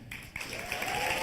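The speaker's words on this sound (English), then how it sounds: "Round of applause, maybe, for those who have been" Scattered audience applause at a live fireside-chat event, a short burst of clapping from a seated crowd that rises slightly and holds steady throughout.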